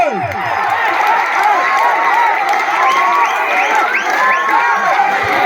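A crowd at a football match between Calicut and Red Star in Vaduvankulam applauds and cheers continuously, loud clapping mixed with whoops and shouts throughout.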